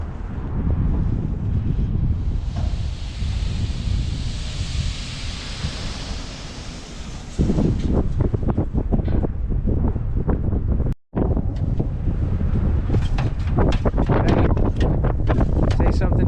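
Strong wind buffets the microphone outdoors on a mild, sunny spring day at a paver patio work site, a steady broadband roar that gusts harder in the second half, with brief voices and work noise mixed in.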